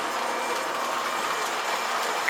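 An O-gauge toy train runs along its track with a continuous close rumbling whir and faint rhythmic clicking, without speech.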